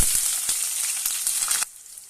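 Onions frying in a pan for methi rasam crackle with a loud, bright sizzle and a few sharp pops before the sound cuts off abruptly near the end.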